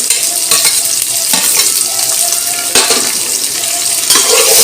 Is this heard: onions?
yes